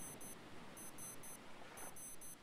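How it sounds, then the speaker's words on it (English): Repeated high-pitched electronic beeps from an in-game wristwatch in the survival game Stranded Deep, sounding in three short bursts of rapid chirps over a steady low background hum. "Your watch is going beep, beep, beep, beep, beep."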